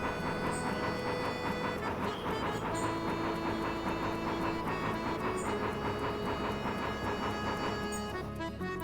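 Train running on rails in the video game Bounty Train: a continuous rumbling roll with rhythmic clatter and hiss, steady and loud throughout, alone without talk.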